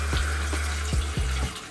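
Water runs steadily from a swivelling shower head inside a Storyteller HILT camper van, a continuous close hiss broken by a few brief knocks and splashes, with no talking.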